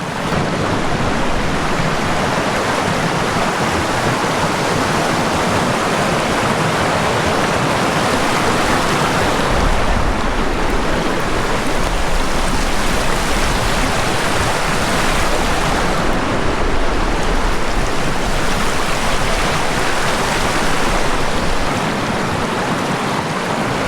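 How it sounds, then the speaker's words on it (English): Small waterfall dropping into Shotgun Cove, Alaska, heard up close as a loud, steady, unbroken rush of water that never lets up. "So here's that cool little waterfall I was telling you about."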